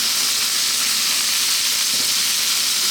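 Garlic, onions and mushrooms fry over very high heat in a pan, a loud, dense, continuous sizzle with a steady hiss and no pauses.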